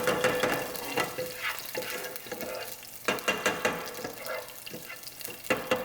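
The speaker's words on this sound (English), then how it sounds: "It's sizzling and the flavor is getting there." Food sizzles in a frying pan while a utensil scrapes and stirs, producing irregular clattering bursts over a soft hiss.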